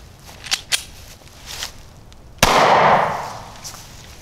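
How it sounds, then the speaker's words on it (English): A single XDS pistol shot firing a hollow point round into a bulletproof vest, a sharp loud crack followed by a broad decaying burst of noise, preceded by a few faint clicks and handling knocks. "Shoot a little hollow point there."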